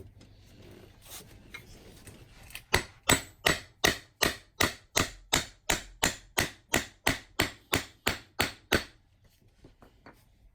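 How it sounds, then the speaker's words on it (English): Steady metallic hammer blows on a quarter coin being shaped into a ring, about eighteen evenly spaced strikes, loud and close, after a quiet start, with a couple of faint taps at the end. "I'm going to hammer on the top of it."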